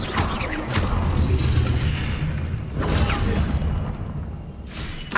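Confringo fire-blast spell explosions in Hogwarts Legacy: three dull, booming bursts with whooshing tails, spaced a couple of seconds apart over a low rumbling background.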